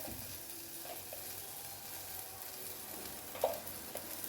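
Faint, steady sizzling of okra frying in a pan, with a few soft scrapes of stirring near the end.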